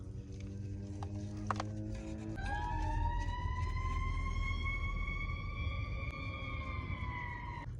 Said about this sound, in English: Three fire trucks and 4 police cars drove past me.